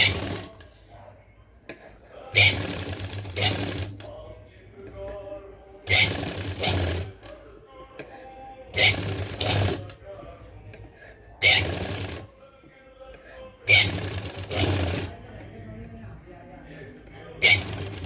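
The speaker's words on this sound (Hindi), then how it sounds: "अब हम इसे इस तरह से फोल्ड करके कच्ची सिलाई लगाएंगे" A sewing machine runs a basting stitch on blouse fabric in bursts of a second or so, repeating about every three seconds, with a low-pitched hum beneath. Quiet voices fill the pauses between the runs.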